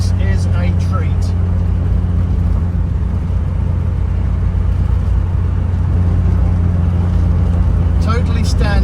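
A 1967 Morris Minor, totally standard, drives with a steady low engine drone and road rumble throughout, close and continuous, with a person talking over it.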